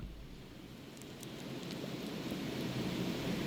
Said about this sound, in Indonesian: sorry kalau kedengaran suara hujan dan juga petir guludug ya bro